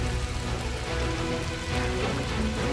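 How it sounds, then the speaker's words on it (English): Artificial rainstorm pouring inside a large indoor rainforest in a city, a dense, steady downpour of rain hitting surfaces that fills the space continuously and loudly, with no voices. "This rainstorm is not just for show, it provides the necessary humidity for the plants and mimics the natural rain of the Amazon"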